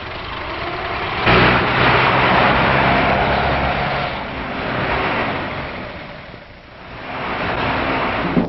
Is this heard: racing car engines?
yes